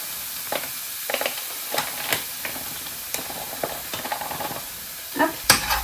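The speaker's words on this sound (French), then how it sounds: "Là, il faut bien mélanger pour que vraiment tous les légumes ils aient bien la fécule de maïs." Vegetables coated with cornstarch in broth are stirred in a pan, giving soft irregular scraping and sizzling strokes with a faint steady hiss underneath.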